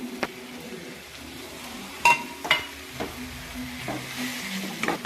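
Leafy greens (bhaji) cook in a pan for a Gujarati dish, giving a soft steady sizzle with a few sharp clinks and scrapes of a spoon against the pan, close and fairly quiet.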